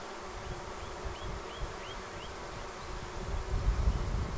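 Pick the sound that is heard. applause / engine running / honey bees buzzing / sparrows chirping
honey bees buzzing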